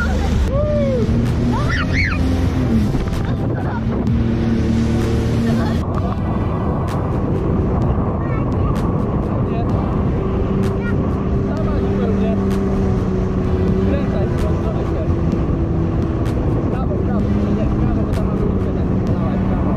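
Sea-Doo jet ski at full throttle on open water, its engine droning steadily and close throughout with rising and falling pitch, under splashing water, wind and voices calling out.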